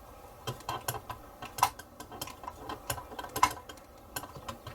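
Small AG06 screws being driven into a part of a 1961 Jaguar XK-E scale model, a quick run of tiny ratcheting clicks and faint scrapes, close and quiet, with no talking.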